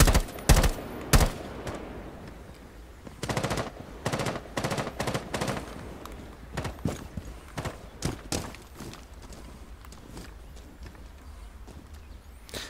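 Gunfire in Rainbow Six Siege, a run of sharp shots and short bursts, some close and loud, others farther off, spaced irregularly across the stretch with no talk over them.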